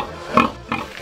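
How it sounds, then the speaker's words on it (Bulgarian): A farm pig grunts nearby in three short, loud bursts with brief pauses between them. "Сега стои прасе пак, бе."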